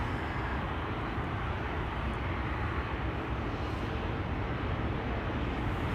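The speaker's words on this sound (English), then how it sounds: "KLM 567 to Kilimanjaro also has been pushed back and coming this way." KLM's airliner for Kilimanjaro, pushed back at Schiphol, taxis closer with a continuous, dense engine roar and hiss, fairly loud and unbroken throughout.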